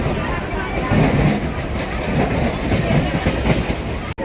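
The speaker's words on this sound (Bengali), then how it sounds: "ট্রেন ঢুকে গেছে" A train pulls into a railway platform with a steady rumble and rhythmic clickety-clack of wheels, loud and near, with faint crowd murmur in the background and a brief cutoff at the end.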